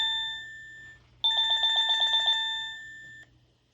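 An OhmKat doorbell chime tune imitating a telephone ring: a sustained electronic tone, then a fast burst of trilling repeated pulses like an old phone bell, clear and close, with no voices.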